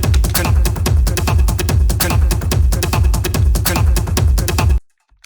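A 20-year-old, badly mixed techno track thumps with a steady pounding kick beat and dense, muddy layers, playing loudly before cutting off abruptly.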